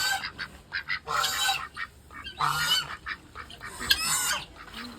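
Geese honk loudly in repeated bursts, several calls overlapping, with quieter gaps between the noisy flurries.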